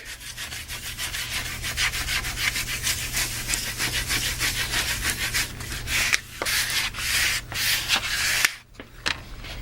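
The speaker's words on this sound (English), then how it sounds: "burnish the back" Burnishing the back of a wall decal makes rapid, rhythmic rubbing strokes with a scratchy, sanding-like texture, loud and close, with brief pauses near the end.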